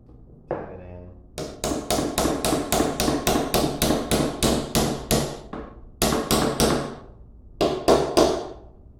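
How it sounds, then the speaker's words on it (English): Hammer tapping a metal pin into a machete handle: a dense run of sharp, evenly spaced strikes, loud and close, with a couple of brief pauses before the blows resume. "We take the last pin,"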